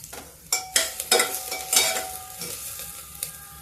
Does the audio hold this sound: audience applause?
no